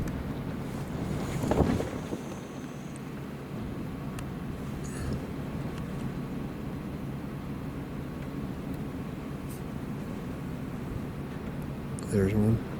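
Wind gusting across an outdoor microphone in an open landscape, a continuous low rumbling buffet lasting throughout, with louder gusts near the start and end.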